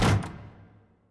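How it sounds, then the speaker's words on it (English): A single door closing with a sharp thud that fades quickly into a short decay, heard alone. "Did you hear a door closing?"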